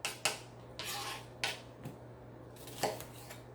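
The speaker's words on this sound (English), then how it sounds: "Cutting them into small, little, manageable, thin slices" Onions are sliced thin with a knife on a cutting board, giving several separate close chopping taps at an uneven pace over a low steady hum.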